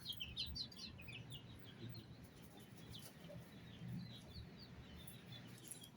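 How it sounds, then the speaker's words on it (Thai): White Leghorn chickens raised from homemade-incubator chicks, faint soft clucks and high chirps scattered over a quiet, low background rumble. "ไก่ขาวเล็กฮอนครับ"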